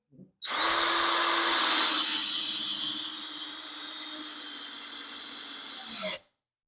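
Power drill driving a bit into a 2x4 during real-world testing, one continuous loud whine of about six seconds that starts hard and eases slightly as the bit bites through the wood, with no talk.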